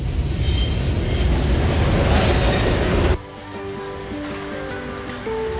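A train roars past very close beside a village where children play along the tracks, with loud rumbling and screeching wheels, then abruptly fades to quieter rail hum and squeals.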